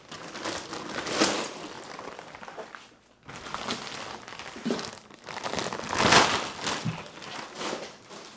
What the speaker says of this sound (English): It is taped inside a plastic bag. Go ahead and remove it.